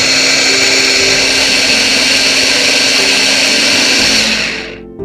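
An electric beater whirring loudly and continuously through batter, a steady high motor drone that winds down and cuts off near the end.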